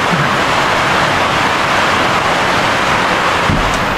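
Heavy rain pours steadily over a bahay kubo house in the Philippines, a dense unbroken roar of water that stays loud throughout with a brief low thump near the end.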